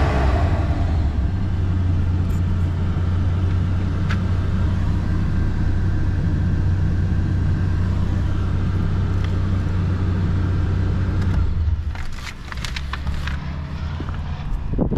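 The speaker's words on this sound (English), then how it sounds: "Engine sounds good." A 1988 Ford Bronco 4x4 engine runs nearby with a constant low rumble for about twelve seconds, followed by a few clicks and knocks as it continues more quietly.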